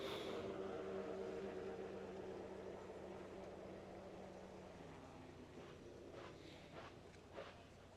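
A small 60 EFI powerboat racing engine drones and revs in the distance, its pitch rising and falling over a steady background wash.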